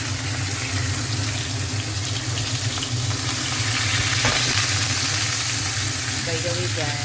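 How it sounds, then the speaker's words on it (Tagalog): A Y-bone steak fries in a pan, giving a steady, close sizzle that runs unbroken throughout, with a brief brighter clink near the end. "We'll just fry it a little."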